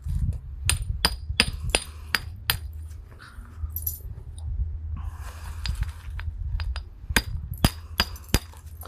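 A hammer knaps flakes from black bottle glass with light, direct downward blows: a close, irregular run of sharp clinking strikes, some in quick pairs, with soft rustling and handling noise between them and no speech.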